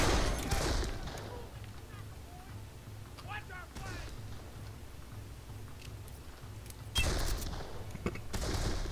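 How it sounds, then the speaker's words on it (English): Gunfire in the Darkest of Days video game shoots out a window, sharp loud shots at the start and again near the end, with scattered smaller clicks and cracks between them. "I can shoot out the window."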